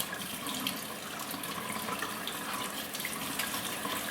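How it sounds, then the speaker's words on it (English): Tap water runs steadily into a sink as a makeup brush is rinsed and squeezed out beneath the stream, a close, even splashing rush with no talk. "I rinse it, I squeeze it out"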